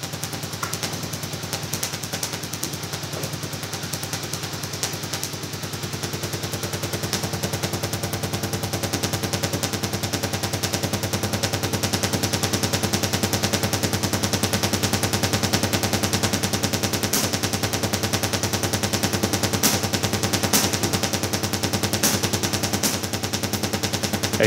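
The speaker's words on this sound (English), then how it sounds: "As you can hear it smacking the angle iron up there at 34 inches" Sparks from a dual 833A vacuum tube Tesla coil strike a piece of angle iron, a dense continuous buzzing crackle with sharp snapping cracks, loud and unbroken throughout.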